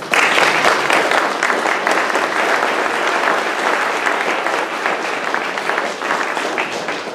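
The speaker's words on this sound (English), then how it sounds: "I'd like a round of applause for him." Steady, dense applause from a meeting audience honoring the Neptune Beach police chief, loud and continuous throughout with no break in the clapping.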